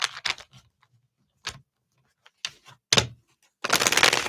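Cards shuffled by hand during a tarot-style spirit reading, heard as several short riffling bursts with gaps between them, ending in a longer, louder flurry.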